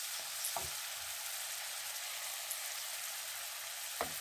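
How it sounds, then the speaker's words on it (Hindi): Spices with crushed ginger and garlic frying in a pan for chana dal, a soft, steady sizzle with a couple of faint stirring clinks, quiet and close with no voices. "मसाले को अच्छी तरह से भूनें।"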